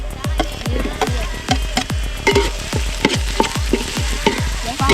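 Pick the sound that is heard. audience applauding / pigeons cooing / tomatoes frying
tomatoes frying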